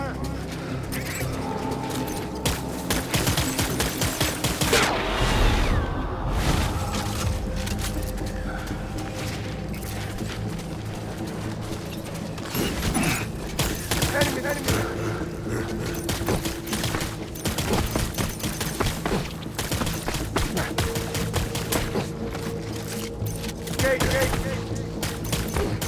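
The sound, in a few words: gunfire in video game Death Stranding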